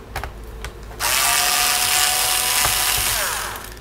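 Small power screwdriver whirring steadily for a few seconds, close and loud, backing out screws from an Asus X54C laptop during a teardown, after a few light clicks and taps.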